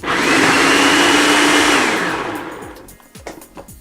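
A blender whirs loudly and steadily through raw tomato sauce with dates, running for about two seconds before winding down into faint clinks and handling noise.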